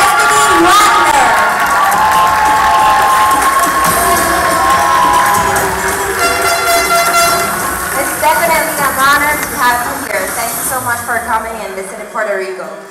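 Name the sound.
audience applause and cheering at beauty pageant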